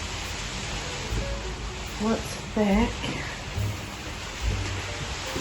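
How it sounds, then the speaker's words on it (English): Steady rain falls outdoors as a dense, even hiss throughout, with people talking and brief voices rising over it. "wow, it's raining."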